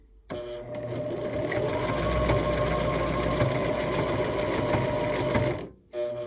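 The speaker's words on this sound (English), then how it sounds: "I actually will stitch it just slightly inside this drawn line" A sewing machine stitches just inside the drawn line along the edge of a micro mini Christmas tree quilt before trimming, running as a steady continuous whir for several seconds and stopping abruptly near the end.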